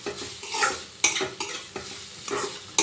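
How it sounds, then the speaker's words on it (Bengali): Semolina and grated carrot stirred and fried in ghee for a carrot dessert, with a soft steady sizzle broken by repeated scraping strokes of a spoon against the pan, close and fairly loud. "এবার একটু সুজিটাও গাজরের সাথে ভেজে নিচ্ছি"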